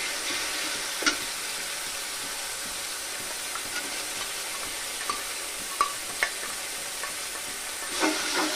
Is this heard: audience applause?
no